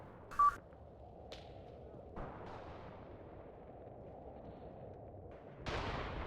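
Gunfire and explosions in the video game Mius Front, a sharp nearby shot followed by a few distant booms and cracks over a low battlefield rumble, ending with a louder blast.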